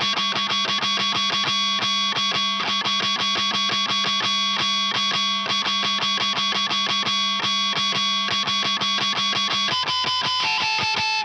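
Heavily distorted electric guitar through a Gonkulator distortion pedal, chugging a fast, steady rhythm of palm-muted notes, then shifting to sustained harmonics near the end.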